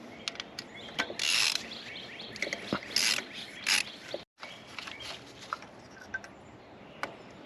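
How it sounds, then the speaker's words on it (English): Ratchet clicks and mechanical ratcheting bursts while a spark plug comes out of a misfiring, oily Toyota Avalon engine, several short loud clicking runs separated by pauses, near and without talk. "let me take out the spark plug"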